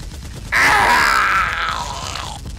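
Heavy 12.7mm machine gun fire, anti-aircraft guns turned on people, voiced for an action scene: one loud sustained roaring burst starting abruptly and tailing off after about two seconds, close and dominant.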